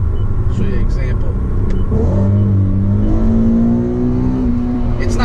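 An Infiniti Q50 engine revs and climbs steadily while held in one gear by the paddle shifters, a loud rising drone sustained under someone speaking.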